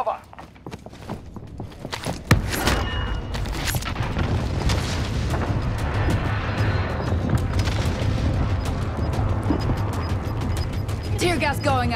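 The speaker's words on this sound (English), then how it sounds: "Enemy precision airstrike. Take cover." Enemy precision airstrike in a tactical shooter game set during the Chavín de Huántar operation: a sharp blast followed by sustained rumbling explosions and debris, loud and continuous, with radio voices speaking over it.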